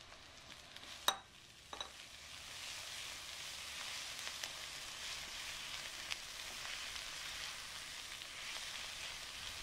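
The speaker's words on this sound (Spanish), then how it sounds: "añadimos los 3 ajos picados y dejamos sofreír unos 5 minutos más" Chopped garlic and onion soften in oil in a pan for bacalao à brás, a quiet, even sizzle after one sharp clack and a smaller tap near the start, with no voices.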